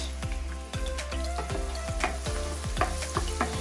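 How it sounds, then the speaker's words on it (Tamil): Cabbage, beans and carrot frying in hot oil, a steady close sizzle with regular scraping knocks of a spoon against the pan, with no voices. "ஆயில் சூடான உடனே அதில் முட்டைக்கோஸ், பீன்ஸ்,"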